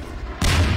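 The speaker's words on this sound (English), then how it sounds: "This gun's completely screwed up, so I blew it up" In the Half-Life 2 VR game, a gun blows up with a sudden loud boom that breaks through quiet background hum and rumbles on briefly.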